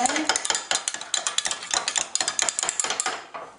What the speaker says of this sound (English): And we're going to mix them up a little bit.